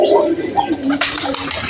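Pigeons feeding on broken rice and rice bran, with soft cooing and wing or pecking sounds at close range, mixed with some nearby human voice.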